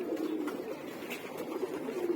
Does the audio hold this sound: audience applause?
no